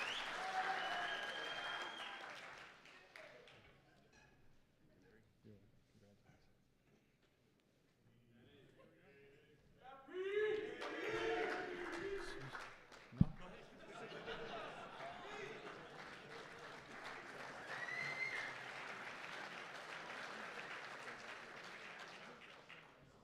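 Audience applause at a recognition ceremony, clapping that swells and fades across the stretch with voices mixed in, a loud burst near the start and renewed clapping later at moderate distance.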